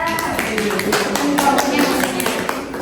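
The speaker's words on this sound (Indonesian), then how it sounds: "Tepuk tangan untuk Mbak Ica." Classroom applause during a micro-teaching practice lesson: brisk, uneven hand claps from a small group of students, close and fairly loud, with voices talking over the clapping throughout.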